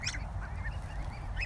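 A goose gives a few short, nasal honks close by on wet ground, set against low rumbling background noise.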